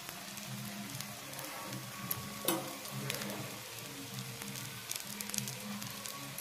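A besan chilla fries in oil in a pan with a constant crackling sizzle, dotted with small pops and one sharper clatter partway through.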